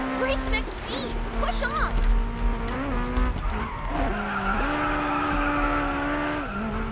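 A Porsche 918 Spyder drifting in the mobile racing game Racing Master, its tires squealing in long wavering screeches over a steady engine drone, loud and close, with someone talking over it.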